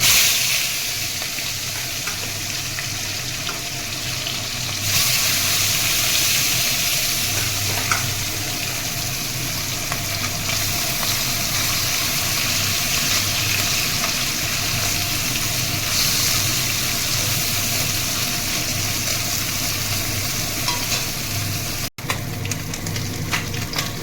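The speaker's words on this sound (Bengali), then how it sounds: "তার জন্য কড়াইতে তেল গরম হয়ে গেছে। এবার মাছগুলো আমি" Hot oil crackles and hisses continuously as small puti fish fry in a kadai, loud and close, with a brief sharp click near the end.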